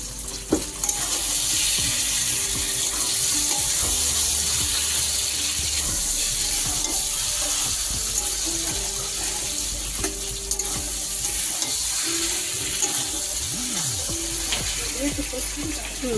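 Spice paste sizzles loudly in plenty of oil in a home kitchen, with chopped tomatoes tipped in and stirred. The frying hiss stays steady and close throughout, with scraping and clinking under some background talk.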